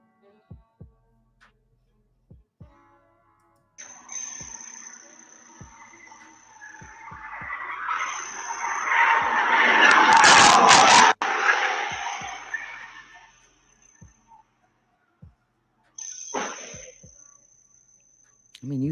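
A car crashing into a house, caught on a Ring doorbell camera: a loud, broad roar builds to a sharp impact, then falls away to quieter noise with scattered faint ticks before and after.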